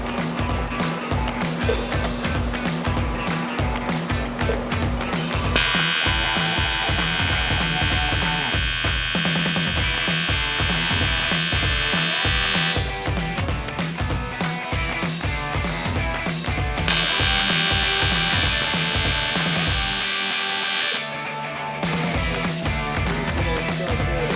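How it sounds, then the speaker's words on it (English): A TIG welder hums with a steady electrical buzz while metal is welded, holding close and continuous with bands of harsher hissing arc noise that start and stop across the stretch. "let's see if I can make metal stick together with a TIG"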